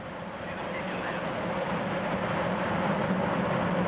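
Soyuz rocket engines igniting at launch, a broad roaring rumble that swells steadily louder and stays dense throughout, without talk.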